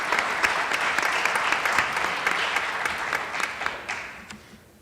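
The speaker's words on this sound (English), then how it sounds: "Let's give Andrew another round of applause." Graduation ceremony audience at Northern Vermont University in Johnson applauding a graduate, a steady wash of many hands clapping that holds for several seconds before tapering off near the end.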